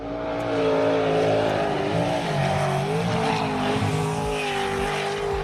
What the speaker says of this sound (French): Voici un jet sprint Lesbi Turbo qui pulvérise le circuit australien en un temps record.